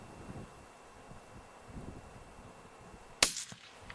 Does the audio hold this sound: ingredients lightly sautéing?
no